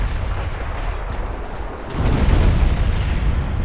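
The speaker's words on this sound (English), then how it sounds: "You can see that ammo detonation did a lot of damage" Ammo detonation aboard a warship in Ultimate Admiral Dreadnoughts: a low rumbling of gunfire gives way to a heavy, booming blast that swells and keeps roaring as the explosion carries on, with no voices.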